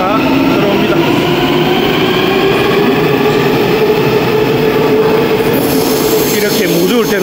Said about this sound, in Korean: 수영행 열차가 들어옵니다.